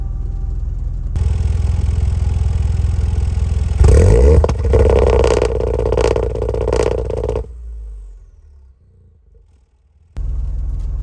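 A Toyota GR Yaris engine rumbles steadily nearby, then revs harder and pulls away with rising roar, fades to near silence, and a loud engine rumble returns abruptly at the end.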